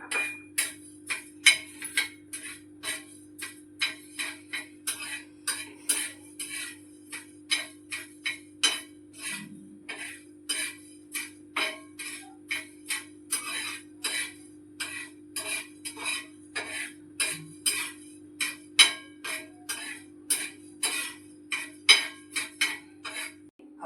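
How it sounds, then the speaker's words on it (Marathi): Coriander seeds toasting in a pan for dahi vada make a steady run of quick, regular clicks and ticks, like a spoon or spatula scraping and tapping the metal pan. The sound is fairly close and clear, with no talking. "आता आपण धने भाजून घेऊ।"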